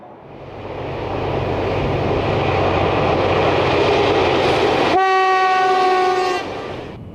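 Two Class 218 diesel locomotives double-heading a long freight train roll past loudly with a rising diesel roar and rumbling wagons, then a sharp tonal horn blast near the end, with no talking.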